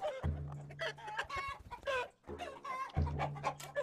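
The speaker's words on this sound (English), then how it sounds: "Oh, he's shitting out chickens." Chickens clucking in the video game Totally Accurate Battle Simulator, short bursts of fowl clucks repeating close up in two main clusters.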